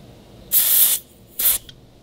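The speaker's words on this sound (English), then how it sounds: "What I just did is I let all the air out." Two sharp bursts of hissing air escape from a car A/C refrigerant charging hose valve as it is purged, a longer half-second blast followed by a shorter one, close and loud against near silence.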